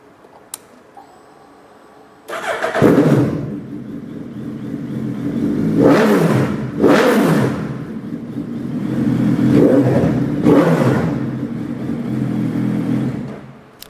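A stock 2017 Suzuki Hayabusa GSX1300R superbike starts up with a sudden crank and catch, then settles into a deep idle broken by several sharp, loud throttle revs that rise and fall close by.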